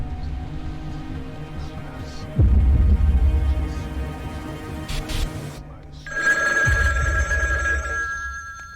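A telephone rings in the video game SCP: Secret Files, set in a desert, with throbbing low pulses beneath and a bright electronic ring rising near the end, no speech.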